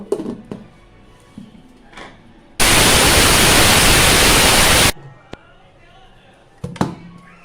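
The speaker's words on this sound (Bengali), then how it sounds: "এবার ভুট্টার দানা আমি সেমভাবে গুঁড়ো করে নেব।" A home grinder pulverises dried maize kernels into powder, a loud, dense roar that runs steadily for about two seconds in the middle and then cuts off, with quieter handling noises before and after.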